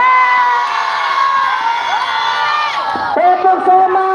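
Children cheer and shout together around a scout campfire at a Persami camp, a loud, continuous chorus of high voices with rising whoops, with a brief dip before the cheering surges again.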